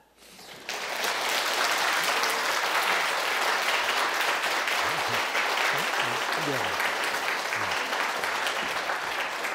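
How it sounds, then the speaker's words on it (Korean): Audience applause after a lecture by an elderly professor emeritus, starting abruptly and staying loud and steady, with a voice speaking briefly underneath midway. "교수님 박수가 너무 작은 것 같아요"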